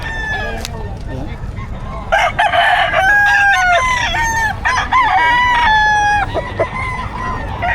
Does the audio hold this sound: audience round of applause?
no